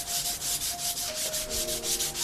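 Hand sanding a wooden taiaha, the abrasive paper rasping across the wood in quick regular back-and-forth strokes, about ten close, loud passes with no talking.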